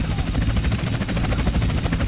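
Helicopter in GTA San Andreas, a steady loud rotor chop and engine roar that stays constant throughout, close and continuous.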